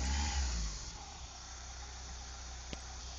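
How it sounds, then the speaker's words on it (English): A Vauxhall Carlton 2.0 engine with a manual gearbox, started after months unused, idles evenly close by; a louder rev at the start settles into a smooth, steady tick-over with a single brief click later. "Ticking over lovely. It hasn't run for months."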